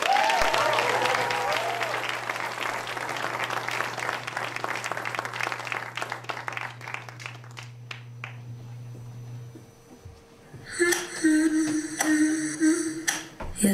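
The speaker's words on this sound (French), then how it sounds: "faites du bruit pour la troupe de danse Impulsion!" Audience at a local final of a student talent show applauding a dance troupe: dense clapping and cheering that swells and then thins out, with a voice over the crowd and music starting near the end.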